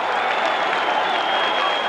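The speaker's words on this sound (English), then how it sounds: "The applause from the fans here at North Sunshine." Fans applaud at a 1995/96 semi-final football match between Melbourne Knights and Marconi, a dense, steady wash of crowd clapping heard from a distance for the full stretch.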